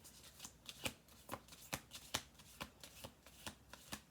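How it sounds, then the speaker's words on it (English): A deck of cards being shuffled repeatedly, with crisp riffling bursts recurring in a steady rhythm, close and fairly quiet, with no talking. "I'm going to do a couple more shuffles here."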